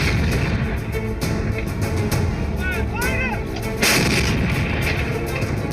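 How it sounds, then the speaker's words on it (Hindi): Artillery shelling and gunfire along the India-Pakistan border: a dense, continuous barrage of booms and sharp cracks with a loud burst near the end, and faint whistling tones partway through. "पाकिस्तान बौखलाहट में बॉर्डर पर फायरिंग कर रहा है, जिसका जवाब उसे गोलों से मिल रहा है।"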